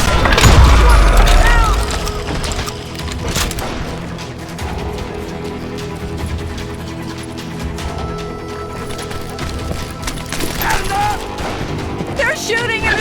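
Gunfire in a western town street in Call of Juarez Gunslinger, a loud boom at the start followed by scattered shots, impacts and clattering mechanisms, with a voice talking over the din.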